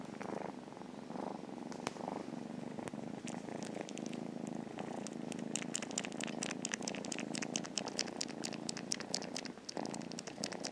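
A kitten purrs steadily and close up, a soft continuous rumbling drone with rapid fine pulses, alone without any talk.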